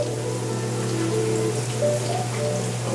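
Tap water streaming over tomatoes in a kitchen, a steady close splashing and patter with small drips, continuous for a few seconds with no talk.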